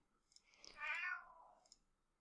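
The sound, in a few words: cat meowing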